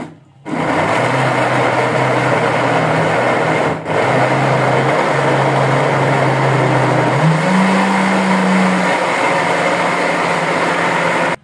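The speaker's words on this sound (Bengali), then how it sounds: "এগুলো আমি ব্লেন্ডারে ব্লেন্ড করে নেব" An electric blender runs steadily on tomatoes for sauce, a loud continuous motor whine that dips briefly, then rises in pitch toward the end as the mixture thins, with no one talking.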